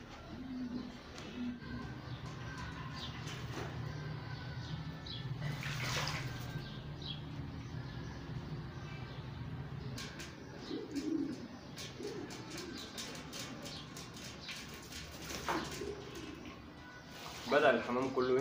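Pigeons bathe in water during hot weather, cooing softly with splashes and wing flutters scattered through, while someone talks over them in Arabic.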